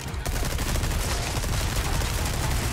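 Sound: gunfire in a video game

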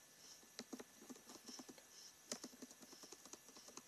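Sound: typing on a computer keyboard while playing Minecraft

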